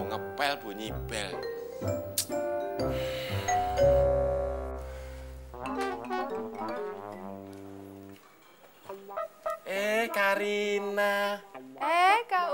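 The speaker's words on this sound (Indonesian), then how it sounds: "Baru mau ngepel bunyi bel." A home doorbell chimes in a series of bright ding-dong tones amid music and other household sounds, moderately loud and close.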